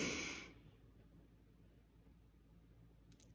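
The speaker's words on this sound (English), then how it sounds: "in for five, hold for three, out for five." One slow, audible exhale from a mindful breathing exercise trails off into quiet room tone, followed by soft near breath noise and a brief faint rustle at the end.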